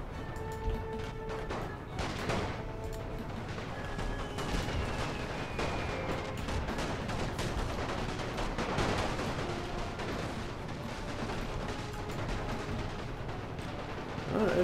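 Artillery barrages in a World War I strategy game set on the Russian front in 1915: dense, continuous rumbling booms and crashing blasts overlapping throughout, loud and busy, with tonal game sounds mixed in early on.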